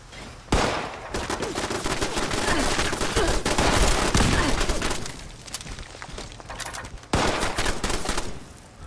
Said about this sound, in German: Irgendwas schießt auf uns.